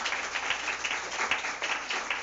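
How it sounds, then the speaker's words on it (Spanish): Brief applause from an audience after a presentation, a modest patter of clapping with a few distinct claps, moderate in level and fairly close. "un aplauso para Isabel"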